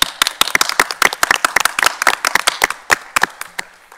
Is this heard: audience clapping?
yes